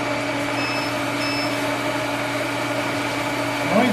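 Steady electric hum of a welding machine running at a metal shop, a constant droning tone with a faint whine, unchanging and fairly loud throughout, swelling slightly at the very end.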